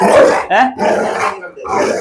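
A pit bull growls and barks up close in rough, throaty bursts that fill most of the two seconds, with short gaps between them.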